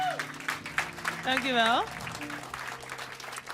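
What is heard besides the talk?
audience applause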